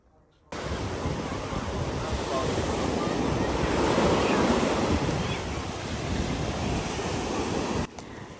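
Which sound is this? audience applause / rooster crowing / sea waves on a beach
sea waves on a beach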